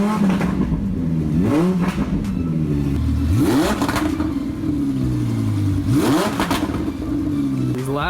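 A Lamborghini Huracan engine cold-starts after a repair weld and revs hard several times, its loud sweeping pitch climbing and falling again and again at close range, with voices heard in the background.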